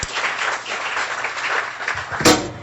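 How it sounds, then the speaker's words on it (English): Audience applause for the dog trainers at a Guiding Eyes guide dog class graduation, a steady, moderately loud wash of clapping from a seated crowd that ends with a sharp thump near the close. "please join me in giving them a round of applause"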